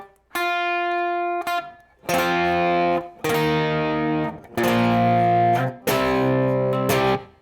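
Electric guitar strummed through heavy distortion while being tuned, a series of sustained, buzzing chords rung out one after another with short breaks between them, loud and close with no voices.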